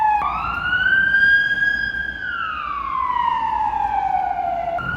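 An ambulance siren wails, rising and falling in long sweeps, fairly close and steady, with traffic rumble underneath.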